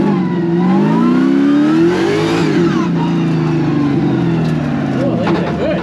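A 700hp competition car's engine revs up and down while driving through a wet corner, a loud close tone that climbs and falls as the throttle is squeezed, with faint talk in the cabin.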